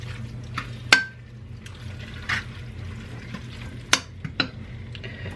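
Kidney beans and chili in a pot stirred with a spoon, a few distinct scraping clinks against the pot over a low, steady simmering bed of sound, close and fairly quiet.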